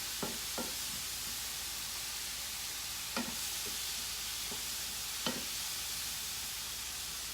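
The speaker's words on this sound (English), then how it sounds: "we're just sauteing some mushrooms and a little bit of garlic with some olive oil" Mushrooms and a little garlic sauteing in olive oil and Kerrygold butter give a steady, even sizzle, with a few sharp utensil taps and scrapes scattered through it and no talking.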